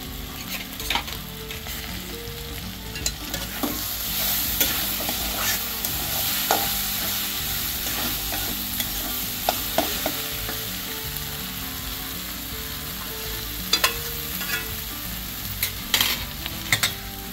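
Broad beans vegetable cooks with peanuts in a covered pan over low heat, a steady sizzling hiss broken by scattered clicks and scrapes of stirring, alone without talk.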